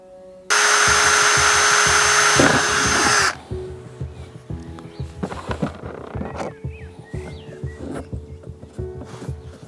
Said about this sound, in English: I've drilled some holes for the screws to stop the wood from splitting